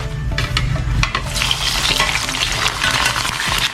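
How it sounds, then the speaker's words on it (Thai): Whole spices fry in hot oil in a wok, giving a loud, close, steady sizzle with stirring and scraping throughout and no voices. "พอน้ำมันเราเริ่มร้อนนะครับ เราก็จะทอดเครื่องเทศของเราก่อนนะครับ"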